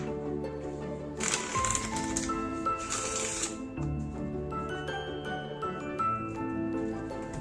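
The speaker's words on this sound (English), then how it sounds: "To lose the spectator card in the deck even more, he shuffles it." A magician shuffling a deck of playing cards during a card trick, giving two bright riffling bursts followed by softer sliding and tapping of the cards.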